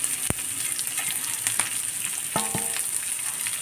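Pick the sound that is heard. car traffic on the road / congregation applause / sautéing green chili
sautéing green chili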